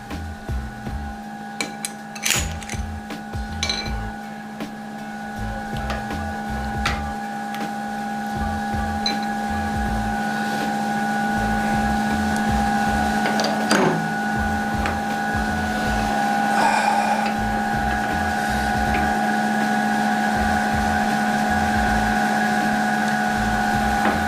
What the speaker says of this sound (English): I'm just going to slow the lathe down a little bit because it's still going a little bit too fast